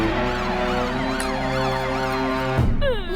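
A loud, continuous wailing siren rises and falls in a steady sweeping pattern close by, then cuts into a quicker, higher yelp at the end.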